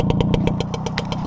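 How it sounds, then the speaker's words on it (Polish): A Romet Ogar 200 motorcycle engine running steadily, its close, loud exhaust putting out an even, rapid pulsing beat with no talking. "ten głos silnika to naprawdę oddaję"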